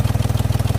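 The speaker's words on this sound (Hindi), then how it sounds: "बेल्ट की तो आवाज़ आ रही है, ये तो बेल्ट की है, कोई धक धक धक धक आवाज़ आ रही है" Mahindra XUV 3XO engine idling with a belt noise and a regular knocking pulse, a rapid even thudding beat over a low, steady drone, heard close and loud.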